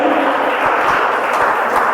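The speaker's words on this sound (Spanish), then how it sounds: "un aplauso al Señor en esta hora" A church congregation claps together in a steady, dense wash of applause that holds evenly for the whole stretch, with no break or clear voice on top.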